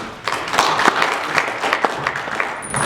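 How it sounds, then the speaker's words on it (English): An audience at a peace-research talk gives a round of applause, loud nearby clapping with some sharp individual claps standing out, steady across the moment. "you can give me a better round of applause."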